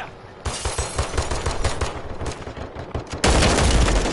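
Rapid bursts of gunfire from a battle royale video game, dense overlapping shots with a louder, harsher stretch near the end.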